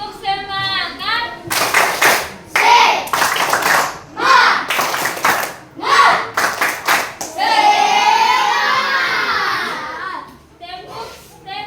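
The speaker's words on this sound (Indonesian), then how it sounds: "Tepuk semangat." A group performs the Tepuk semangat clapping chant during an ice-breaking session, with loud bursts of rhythmic clapping in patterned sets alternating with voices chanting together.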